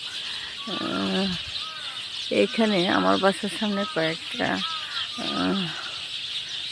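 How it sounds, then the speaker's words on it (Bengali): House sparrows chirp in a busy background chatter while a person speaks over them in the foreground. "প্রচুর চড়ুই পাখি রয়েছে প্রচুর চড়ুই পাখি"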